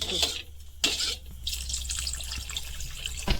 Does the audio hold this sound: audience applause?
no